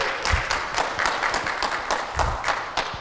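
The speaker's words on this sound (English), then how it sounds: "Everyone give him a round of applause." Scattered applause for a speaker at a Linux conference, a modest number of hands clapping with distinct individual claps in an uneven rhythm.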